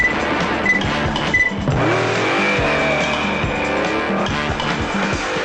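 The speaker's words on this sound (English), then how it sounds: "The Spider Machine GP7 is a race car that Spider-Man uses to drive around Japan." Spider-Man's Spider Machine GP7 race car roars loudly up close, its engine revving and rising in pitch while tires squeal and skid in sharp bursts, with no voices.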